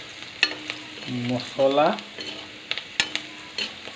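Onion, garlic, ginger, cumin powder and other ground spices frying in oil for a pumpkin, potato and soybean curry, giving a steady close sizzle with occasional stirring clicks under brief speech.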